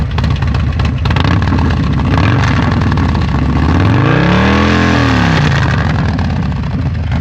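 Eric's Harley-Davidson with a loud performance exhaust sits at a rumbling idle, then a single sharp throttle blip swells and falls away close and very loud before settling back to idle.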